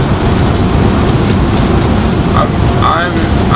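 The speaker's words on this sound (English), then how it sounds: "It's very windy." Strong outdoor wind batters the microphone in a constant low roaring rumble, loud and close throughout, with a voice faintly audible underneath.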